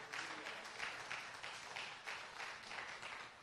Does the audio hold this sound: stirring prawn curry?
no